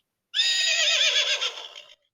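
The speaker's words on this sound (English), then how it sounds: "The horse gallops in the field." A horse gives a single loud, close whinny, a shrill quavering neigh that holds for about a second and a half before trailing off into silence.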